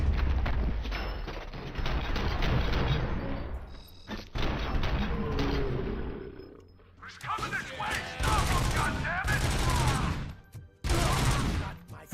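Machine pistol fire in RoboCop: Rogue City, dense full-auto bursts broken by short pauses, loud and close, with crashing impacts between the volleys.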